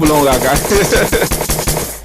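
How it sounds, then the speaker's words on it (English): A loud gunshot sound effect fires in a rapid burst of repeated bangs, like a machine gun, mixed in with a voice and background music. "let me give myself a gunshot"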